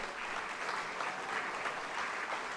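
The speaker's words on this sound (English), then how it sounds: "Let's give Randall a big round of applause" A crowd claps steadily in a dense, even wash of applause at a university athletics hall of fame ceremony, somewhat distant and moderate in volume.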